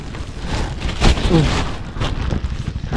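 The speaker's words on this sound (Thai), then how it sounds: "ฝนมันตกครับ" Rain falling outdoors under bamboo by a river, a dense steady hiss and patter with gusty wind noise on the microphone, close and fairly loud.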